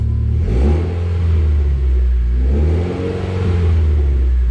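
A Mitsubishi Lancer Evolution X engine, fitted with new gauges, revs gently in a few low swells from a steady idle, heard up close with no talking.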